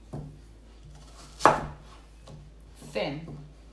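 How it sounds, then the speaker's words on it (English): Onion sliced thinly with a knife on a board, two distinct chopping knocks spaced apart with a faint background hum. "cut onion"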